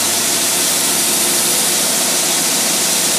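Close and loud, an engine on a Rochester two-barrel carburetor runs in a steady roar with a broad hissing, rushing quality and no pauses.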